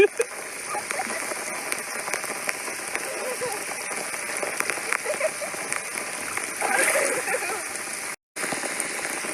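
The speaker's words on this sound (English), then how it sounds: "all of a sudden it just started raining. It was pouring." Heavy rain pours down steadily on a whitewater rafting trip, a dense hiss of drops and splatter on surfaces and water that holds throughout, swelling briefly louder, with a short cutout near the end.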